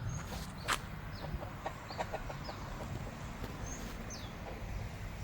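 A rooster perched in a tree in a Malaysian village clucks softly in short, scattered bursts, faint and somewhat distant over steady outdoor background noise, with a few thin bird chirps.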